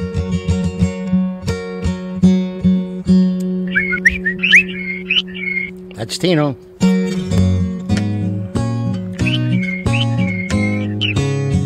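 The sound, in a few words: whistling imitating a bird in a played song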